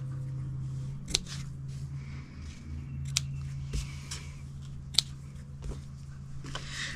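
Sharp scissor snips through cardstock for a heart-themed treat box craft, a few distinct cuts spaced out over a steady low hum, fairly quiet and close.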